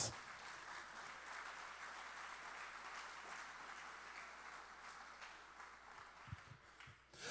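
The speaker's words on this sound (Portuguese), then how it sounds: "Alguém aplaude ao Senhor Jesus?" A church congregation claps in a sustained round of applause, fairly faint and distant, with a few louder thumps near the end.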